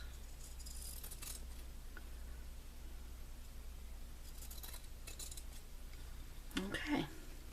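Scissors cutting fabric scraps, faint snips in a quiet room with a brief louder cut near the end and soft speech in the background.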